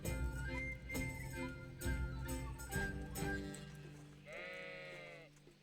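Sheep bleating in the medieval video game Kingdom Come: Deliverance, a loud wavering bleat near the end following busy, clattering in-game sounds and music-like tones.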